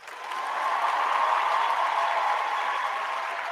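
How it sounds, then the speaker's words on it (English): A brief burst of crowd applause rises quickly and holds steady, a dense wash of clapping from a studio audience with no talk over it. "A little applause from Paul Schaefer."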